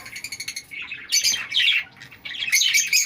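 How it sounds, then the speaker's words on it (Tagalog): Breeder parakeets squawk and chatter in loud, overlapping bursts close to the microphone, with a softer rhythmic pattering in the first half second. "At ito naman ang mga breeder kong parakit."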